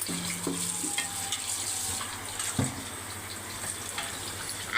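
Biryani stirred in a cooking pot gives a continuous wet sizzling and scraping texture, with occasional clinks and soft stirring bumps throughout.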